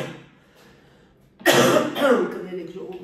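A harsh, close cough from a viral illness bursts out after a quiet pause, in one or two rough, throaty coughs that fade into a brief tail.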